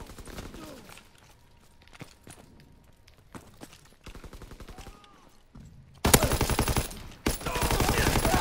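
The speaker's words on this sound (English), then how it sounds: "Enemy strafing run inbound!" Enemy aircraft make a strafing run in a WWII video game: scattered single shots and a rapid machine-gun burst, then a loud, dense roar of close gunfire over the final seconds.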